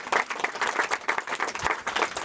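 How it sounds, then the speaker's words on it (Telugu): An audience at a church anniversary gathering applauds with steady, dense clapping that fills the room throughout, without any voices over it. "గట్టిగా చప్పట్లు కొడదాం."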